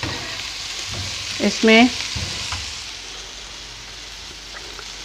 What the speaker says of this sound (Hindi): शिमला मिर्च डाल के इनकी मैं ज़रा हल्की हल्की भुनाई कर लूँगी